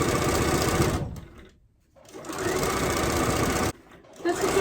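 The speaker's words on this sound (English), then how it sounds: "Now we're gonna sew the rows together, and I really don't have to pin." A sewing machine stitches quilt rows together, its needle whirring in a fast, steady mechanical chatter close by, stopping briefly twice before starting up again.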